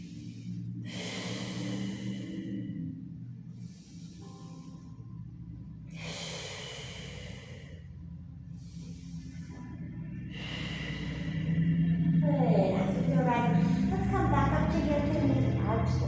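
Slow, deep yoga breaths during a Pilates fusion class, several long inhales and exhales in a steady rhythm over a low background hum, growing fuller and louder toward the end.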